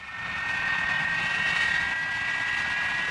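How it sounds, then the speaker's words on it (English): Jet engines of an English Electric Canberra PR9, derived from Lightning fighter engines without reheat, give a steady loud roar with a whining tone that swells in and holds evenly. "the PR9 engines, which are derived from the Lightning fighter engines, but without the reheat"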